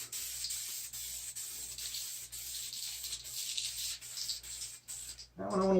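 Spraymax 2K clear coat hisses steadily from an aerosol can in a continuous close spray pass lasting several seconds, then cuts off abruptly, followed by a brief louder handling noise.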